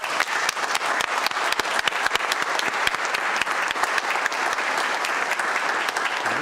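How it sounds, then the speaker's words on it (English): Audience at a city council meeting applauding, dense, steady clapping from many hands that carries on for several seconds at a moderate level, without speech over it. "if y'all would, just please clap for Valerie one more time."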